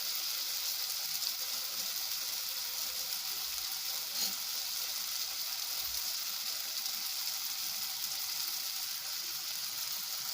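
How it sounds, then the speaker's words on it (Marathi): Chopped tomatoes fry in hot oil with a steady, dense sizzle and crackle that holds at the same level throughout, close and loud, with no voices. "तेल सुट्यापर्यंत टोमॅटोला शिजवून घेऊया."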